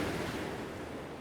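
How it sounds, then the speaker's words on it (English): Steady broadband roar of sea waves surging against a sea wall on a stormy night, continuous and fairly loud with a wind-like rush throughout and no distinct single impacts. "the waves coming around on the sea wall"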